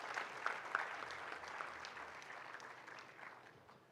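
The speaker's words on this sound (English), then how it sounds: "A big round of applause for them and other loved ones." Applause from the audience at a convocation ceremony, a broad rush of clapping heard from some distance, peaking early with a few sharper claps and gradually fading over the few seconds.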